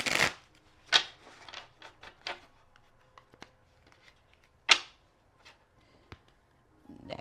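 A tarot deck is cut and handled up close, giving a scattering of quiet, crisp card flicks and riffling snaps spread irregularly over several seconds, with soft rustles between them and no talking.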